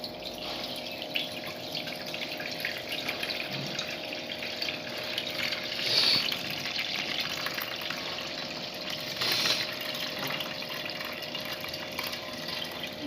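Milk for Tirunelveli halwa poured gradually through a sieve, a soft continuous trickle and splash with two brief louder gushes, close and fairly quiet with no talk.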